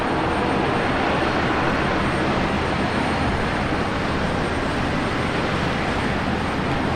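A jet roars down runway 01 right at Brisbane Airport on its takeoff run, a loud, steady broadband rumble holding constant throughout with no voices.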